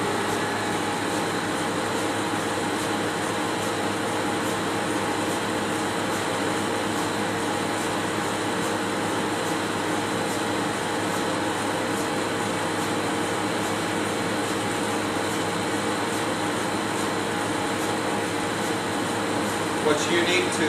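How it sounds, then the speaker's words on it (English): High vacuum coater roughing down its bell jar through an opened rough valve, a steady, loud broadband hiss and mechanical pump drone that holds unchanged for about twenty seconds. "I'm going to go ahead and just demonstrate the opening of the rough valve and bring down the pressure"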